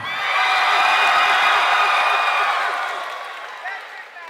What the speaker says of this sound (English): By round of applause, how many out there felt like Darian Griffin won the fight?